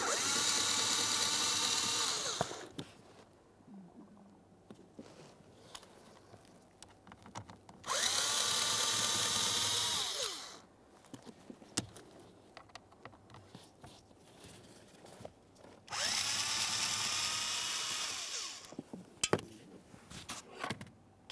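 A power drill backs out the blower motor mounting screws on a 2008-2017 Mitsubishi Lancer HVAC assembly, sounding three loud, sustained whirring bursts separated by quieter clicks and handling noises.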